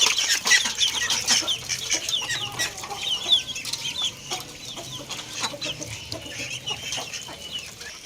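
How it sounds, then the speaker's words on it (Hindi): Desi hens cluck and chirp busily while feeding on green fodder and soaked rotis alongside ducklings, a dense, close chatter of many birds pecking at once. "हमारी देसी मुर्गियाँ डकलिन सब एंजॉय कर रहे हैं, सब सब्ज़ चारा खाने लगे हुए हैं।"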